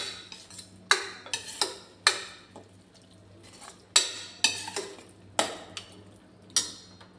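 Masala for rajma being stirred and roasted in a pan, a spoon scraping and clinking against the metal in irregular sharp strokes over a faint low background hum.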